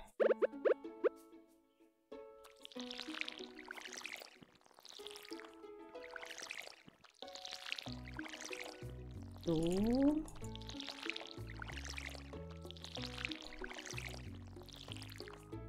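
Watering crops with a watering can in the farming video game Stardew Valley: several soft splashing pours repeat steadily under game music, with a short spoken word near the start.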